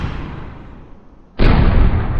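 An artillery unit fires in the Panzer Campaigns Bulge 44 wargame: a decaying rumble trails off, then a sudden loud boom bursts in and sustains with heavy low-end weight.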